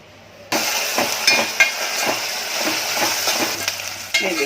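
Onion and two chopped chilli pieces frying in two spoons of oil, a steady close sizzle with stirring scrapes and a few light clinks, starting abruptly after a brief quiet moment.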